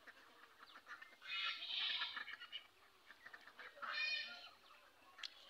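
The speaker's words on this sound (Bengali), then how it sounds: "কত সুন্দর সুন্দর পাতি হাঁস" Domestic ducks and ducklings calling in a farmyard, faint nasal quacks in two separate bursts a couple of seconds apart, with soft rustling between them and no talk.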